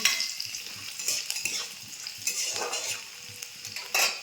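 Dried red chilli, torn bay leaf and five-spice seeds frying in hot oil with onion, a close crackling sizzle broken by repeated scraping stirs and light utensil clinks against the pan, no voices.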